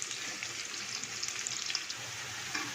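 Onions fry in a pot for aloo matar pulao, giving a steady, quiet, crackling sizzle throughout with occasional small pops and stirring sounds.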